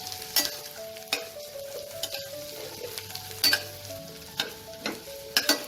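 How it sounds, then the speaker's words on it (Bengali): Onions fry in oil in a pan, a steady soft sizzle punctuated by repeated sharp scraping clicks of a utensil stirring, close and fairly loud. "এখন পেঁয়াজটা হালকা লাল করে আমি ভেজে নিয়েছি। এটাকে আরও 30 সেকেন্ডের মতো আমি আরেকটু ভেজে নেব।"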